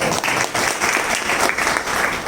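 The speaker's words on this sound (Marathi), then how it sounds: "टाळ्यांचा कडकडाट त्यांच्यासाठी." Loud, steady applause from a crowd at a book launch ceremony, dense clapping filling the whole stretch without pause.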